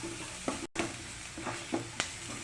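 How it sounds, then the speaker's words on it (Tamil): Garlic and chopped onion sauté in a pan for a pachai payaru kulambu, giving a steady close sizzle broken by a few soft scraping stirs, with no voices. "வெங்காயம் கட் பண்ணி போட்டுக்கலாம். வெங்காயம் நல்லா வசங்கட்டும்."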